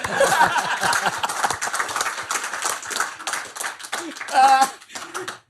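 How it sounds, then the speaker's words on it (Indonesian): Applause from a seminar audience, a dense patter of many hands that swells and then thins, with scattered chuckles and a voice speaking briefly near the end. "Tepuk tangan yuk"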